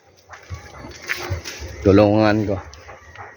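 A loud, drawn-out chicken call rises near the middle, with scattered clucks and soft farmyard noises from a pen of chickens and dogs around it and a voice talking nearby.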